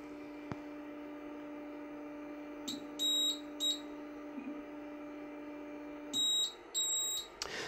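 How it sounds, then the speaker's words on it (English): High electronic beeps from an Anycubic Photon 3D printer homing its Z axis come in pairs, two double beeps sounding over a steady low machine hum, with short gaps of quiet hum between. "The double beep that you heard there is at the point where the optical sensor is tripped"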